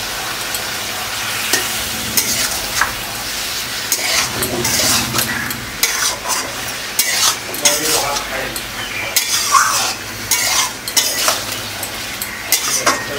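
Ground ginger, onion and garlic masala with black pepper sizzles in a hot pan for a country chicken curry, stirred steadily with a spoon scraping and clinking against the metal. The loud, continuous frying runs throughout without talk.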